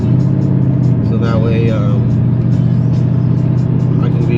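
A Mercedes CLS63 cruises in traffic with a steady low engine rumble and road noise throughout, while someone talks over it near the microphone.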